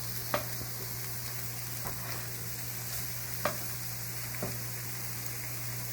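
Garlic and broccoli drop into a pan of frying peppers, giving a soft, steady sizzle with a few faint taps of a utensil, quiet and close, with no talking.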